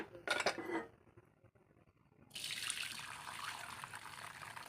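Strained cooking water from boiled lentils pours and trickles steadily into a vessel after a brief clatter of utensils, sounding close and moderately quiet.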